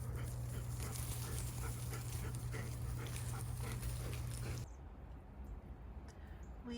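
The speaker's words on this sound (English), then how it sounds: "Hear the doggies down the street." Dogs down the street on a snowy first-of-winter morning, faint and distant, with panting and whimpering under a steady low hum that drops away near the end.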